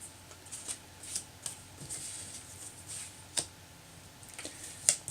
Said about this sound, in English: now we can peel off our panel here